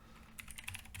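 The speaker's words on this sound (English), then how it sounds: "put in the password for Pikachu" Rapid keystrokes on a computer keyboard as a password is typed into a Linux terminal, a quick run of close, crisp clicks over a low steady hum.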